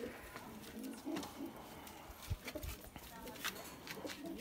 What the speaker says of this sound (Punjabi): ਆ ਬਾਈ ਦਾ ਨੀਲਾ ਕਬੂਤਰ ਆ